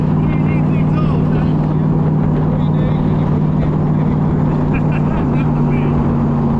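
A Gardner Douglas Cobra's engine and exhaust hold a steady, loud, droning rumble close by for the whole stretch, with people talking over it.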